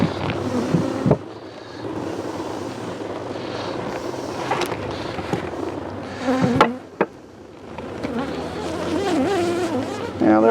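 A swarm of honeybees being moved in a garden cart hums with a close, continuous buzz, wavering in pitch as individual bees pass near, with occasional knocks and handling sounds.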